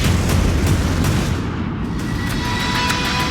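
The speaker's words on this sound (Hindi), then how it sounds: "नोवोरोसिस्क अड्डे पर होता है बड़ा धमाका।" A big blast at the Russian naval base at Novorossiysk, where a Kilo-class diesel-electric submarine is the target. It comes through as a loud, continuous low roar with repeated heavy thuds rolling through it, and no voices.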